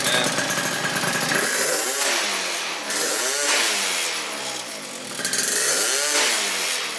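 A Honda Elite AF16 scooter engine fitted with a smart carb revs loudly and close, climbing and dropping in repeated throttle blips with a steady idle drone between them.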